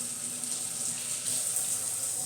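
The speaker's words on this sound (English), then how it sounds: "Turn off the faucet" Water running steadily from a faucet while hands are rinsed, a continuous hiss of splashing water close by with no talking.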